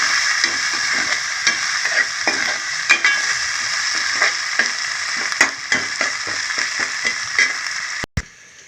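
Onions frying in a pan for a fish curry, a steady bright sizzle with repeated scraping stirs throughout, close and fairly loud, ending in a sharp knock before a brief cutoff.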